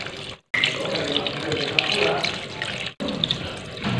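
A running tap pours water over a crab being washed in a sink, a steady close splashing rush that cuts off twice for a moment before resuming.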